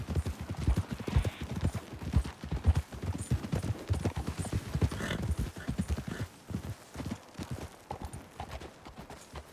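Horse hooves clip-clop in a quick, steady rhythm in the video game Red Dead Redemption 2, several horses trotting together at close range with no talking.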